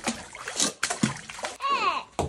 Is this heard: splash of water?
yes